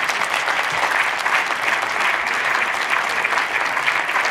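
An audience at the final evening of a fulldome film festival in Brno gives loud, sustained applause, dense even clapping from a large crowd throughout.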